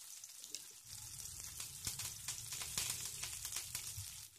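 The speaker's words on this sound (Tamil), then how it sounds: "எண்ணெய் சுட்டதும் கடுகு போடணும். கடுகு பொரிஞ்சதும் சின்ன வெங்காயம், 2 சின்ன வெங்காயம் பொடியாக நறுக்கினது சேர்க்கணும்" Mustard seeds and shallots frying in hot oil for sambar tempering, a continuous close sizzle with scattered crackles and pops, heard alone without talk.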